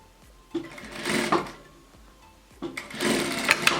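A sewing machine stitches along the edge of fabric for a scrunchie in two short bursts of fast mechanical whirring, separated by a brief pause. It is heard close up and alone.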